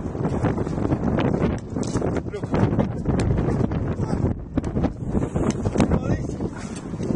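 Strong wind buffets a microphone outdoors on a street during a soccer ball-skills session, producing continuous loud rumbling gusts that fluctuate throughout.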